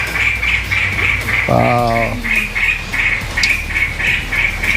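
Magpie-robin (murai) singing behind a house near Mount Cocorowo: a steady run of evenly spaced bright chirps repeating throughout, with a brief exclaiming voice partway through.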